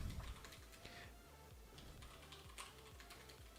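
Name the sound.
typing on a Das Keyboard computer keyboard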